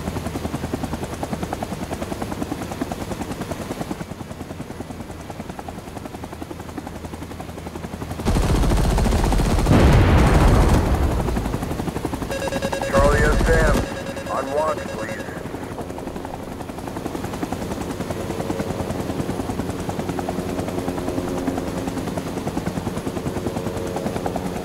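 The Cobra helicopter in the Rising Storm 2 Vietnam game keeps up a steady rotor thrum, broken midway by loud bursts of heavy gunfire and explosions, with a brief mechanical chirp in between.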